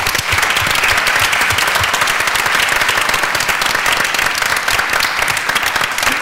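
Loud, steady crowd applause from a live audience at a school board candidates forum, many people clapping continuously at close range with no pause or voices over it.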